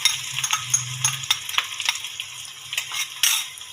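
Ginger garlic paste fries with browned onions in a pot for beef yakhni pulao, with light sizzling broken by repeated scraping and clinking of a stirring spoon.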